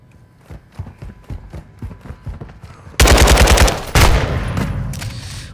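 Gunfire in Call of Duty Modern Warfare 2 free-for-all play: quieter rhythmic footsteps first, then loud sustained automatic bursts in two close volleys near the end.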